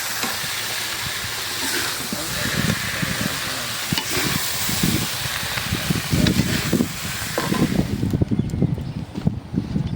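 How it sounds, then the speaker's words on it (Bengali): Flat beans and potatoes frying in a pan give a steady loud sizzle, with scraping stirs and clatter growing busier toward the end. "হয়ে গেল বটবটি আর আলু দিয়ে ভাজি।"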